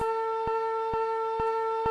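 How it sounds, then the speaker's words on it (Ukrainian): Air raid siren signalling an alert, heard as a steady tonal wail with a rhythmic pulsing beat, loud and alone without talk. "Повітряна тривога! Спустіться, будь ласка, в укриття."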